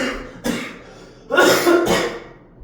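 A man coughs several times during a maths lecture: one short cough near the start, then a louder burst of two or three harsh coughs, close to the microphone with no talk over them.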